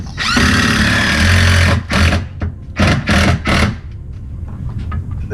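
A power drill drives the end screw through a shipping-pallet shelf into wall studs: one long, loud whirring run followed by several shorter close bursts.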